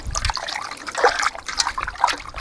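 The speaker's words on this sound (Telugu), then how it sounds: "మనం చికెన్ కడగాలి ఫ్రెష్గా" Tap water trickles and splashes while raw chicken is washed fresh before cooking a curry, a close, uneven stream with small splatters and no talk.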